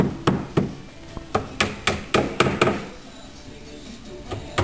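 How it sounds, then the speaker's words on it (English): Wooden dowel tapped into the back of a Homestead desk during assembly, a series of sharp, close knocks in an uneven rhythm, about a dozen hits with short pauses. "on the back of the desk, or the wooden dowel in like so"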